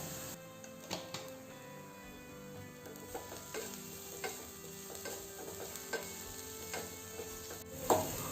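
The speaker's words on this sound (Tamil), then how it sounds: "ஆனியன் நல்லா கலர் மாறுற அளவுக்கு வதக்கிக்கோங்க" Onions sautéing in a pan with a little salt for chilli idli, a steady soft sizzle under repeated scraping and stirring strokes from a utensil, moderately quiet and close, with no talking.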